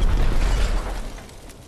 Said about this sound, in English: Yay, explosion!